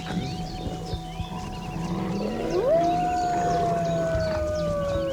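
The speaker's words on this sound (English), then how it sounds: "wolves are specialists at making sounds and listening" A wolf howl rises sharply into a long, steady tone that slowly falls away, sounding moderately distant over a busy outdoor background, with no voices.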